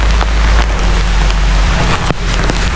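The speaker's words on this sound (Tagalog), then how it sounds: "Grabe po ang ulan." Heavy rain pours down in a dense, loud, continuous broadband roar with a strong low rumble, steady throughout with no voices heard.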